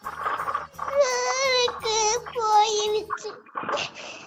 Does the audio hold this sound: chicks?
no